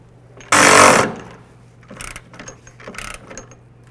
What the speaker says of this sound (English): We'll start them both in before we tighten either of them down.